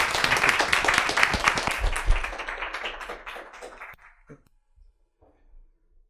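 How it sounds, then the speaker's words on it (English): Applause breaks out at a health symposium as a speaker is welcomed to the stage. The dense clapping builds briefly, then thins to a few scattered claps and fades into near silence. "If we can give him a round of applause."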